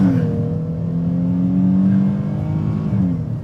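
Engine of a 2020 Chrysler 300 Limited accelerates hard around a corner, a steady loud drone with rising harmonic tones that climb and hold for several seconds from inside the car.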